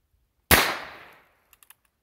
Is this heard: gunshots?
yes